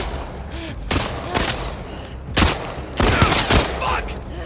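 Rapid gunfire crackles through a tense firefight in The Last of Us Part II, with repeated sharp bursts layered over a constant low rumble and shouting voices.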